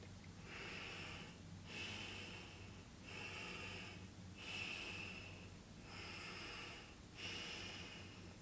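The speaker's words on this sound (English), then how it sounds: "allow yourself to breathe in and out freely and let the air flow through the tube" Slow, regular breaths drawn in and pushed out through a plastic breathing tube held in the mouth, four airy hissing cycles close to the ear, quiet and unaccompanied.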